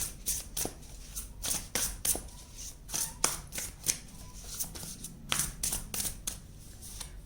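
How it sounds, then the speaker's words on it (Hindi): Tarot cards shuffled and drawn by hand, giving a steady run of crisp riffling and slapping bursts, close and fairly loud, with no voice over them. "एक और कार्ड लेंगे प्रेजेंट के लिए।"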